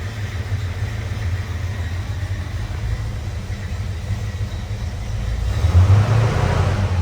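A 1970 Chevrolet C-10 engine runs steadily after a cold start, a loud low rumble that swells briefly near the end as the revs rise, with no talk over it.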